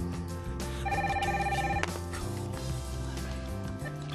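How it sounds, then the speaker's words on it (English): A telephone rings with a short, bright electronic warble that repeats over a murmur of background sound, fairly quiet and without talk. "Who's gonna pick up the phone?"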